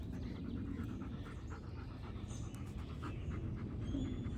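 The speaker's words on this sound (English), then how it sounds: "All my dogs love on the chickens and take good care of them." Dogs panting steadily and close by in a yard with chickens, a continuous breathy rhythm with no talk over it.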